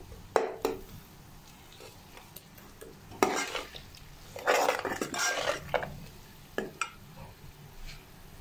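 Mixed vegetables like carrot, potato and peas with spices being stirred and roasted in a pan, sharp metal spoon clanks and scrapes in irregular bursts over a faint low sizzle, close by.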